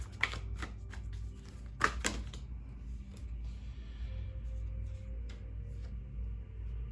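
Oracle cards are shuffled by hand in a quiet room, giving a few sharp riffling snaps near the start, then softer intermittent flicks and rustles at low level.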